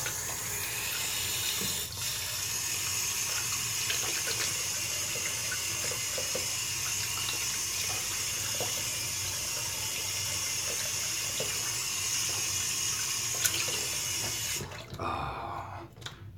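Tap water pours steadily into a sink during rinsing, a constant close hiss and splash that stops abruptly near the end, leaving a few faint drips.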